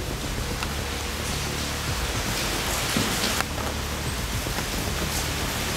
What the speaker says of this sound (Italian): però potrebbe essere pioggia